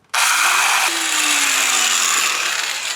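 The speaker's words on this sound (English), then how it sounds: "A little tap with the air hammer" A loud, steady pneumatic air hammer starts abruptly with a hissing, buzzing roar and holds for a few seconds at close range, working on a vehicle's rear suspension.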